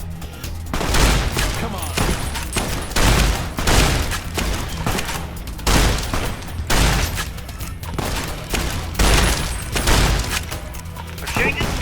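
Repeated gunshots in Fallout: New Vegas, loud sharp bursts coming every second or two in an irregular rhythm, with someone talking briefly between shots.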